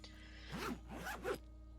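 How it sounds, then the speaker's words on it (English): An orange jacket zipper in the video game Disco Elysium is pulled down in three quick rasping strokes, close and clear over a steady low background hum. "the lieutenant pulls down the zipper of his orange jacket"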